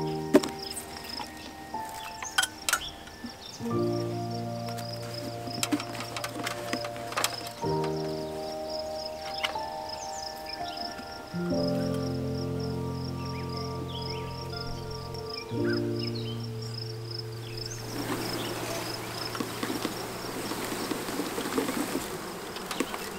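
A honey bee swarm near a hive keeps up a continuous buzzing of many bees, with shifting droning tones rising and falling in layered hums at close range, and no talk.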